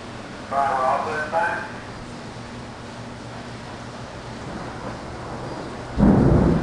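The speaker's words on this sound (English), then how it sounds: "I love the rain." A June rainstorm in Miami, Florida, heard as a steady hiss of rain with a brief rumble early on and a louder surge of wind and downpour near the end; a person talks softly during it.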